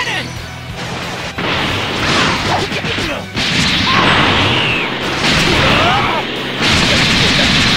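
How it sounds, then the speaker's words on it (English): Special Beam Cannon attack in the Dragon Ball Xenoverse 2 game: a loud, sustained energy blast with crashing bursts, whooshes and booming impacts over several seconds, swelling and surging repeatedly. "Special beam cannon!"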